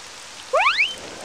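Cartoon rain sound effect: a steady soft hiss of falling rain with a brief burst of rising chirpy tones partway through, heard alone with no talking.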